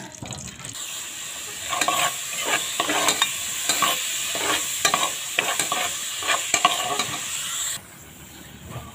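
Cooking oil sizzles steadily in a pan during sautéing for ginataang camansi, with repeated scraping and stirring knocks rising over the hiss, then dropping back to a quieter sizzle near the end.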